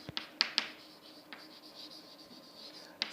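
A pen scratches quietly across paper while a programming comment line is written, with a few sharp ticks and soft strokes in a hushed room.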